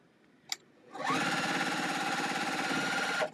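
A sewing machine chain-pieces quilt pieces, a single close, steady whirring run of about two seconds that rises after a small click and stops abruptly.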